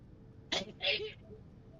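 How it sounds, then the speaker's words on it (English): A single close sneeze bursts out sharply, followed by a brief breathy tail, then quiet room tone. "I'm tired of sneezing now."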